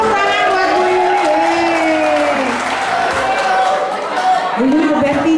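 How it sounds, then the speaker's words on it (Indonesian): Steady crowd applause fills a school alumni gathering for a teacher, with voices and cheering mixed throughout. "Tepuk tangan buat Bu Yuli."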